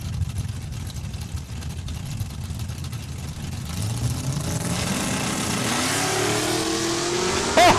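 Mustang drag car launching hard into a wheel stand at Saskatchewan International Raceway, engine revving up from a steady idle and roaring louder as it pulls away, close and continuous with crowd-level ambience underneath.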